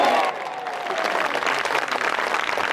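Golf spectators applaud at a women's professional tournament in France, a steady wash of clapping from a sizable crowd that holds at an even level throughout.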